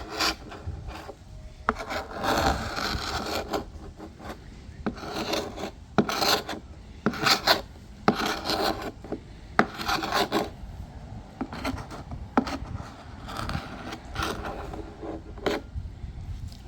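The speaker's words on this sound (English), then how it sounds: "pretty much just working on scraping paint off the columns" Paint being scraped off wooden porch columns on a 1934 house, a close, steady series of rough rasping strokes with brief pauses between passes, no talking.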